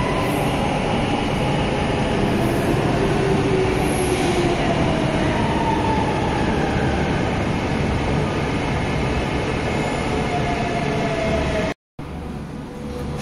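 A metro train pulls into a station on the Nanjing metro, a steady loud rumble of wheels and carriages running throughout with faint high squeals, cutting out briefly near the end.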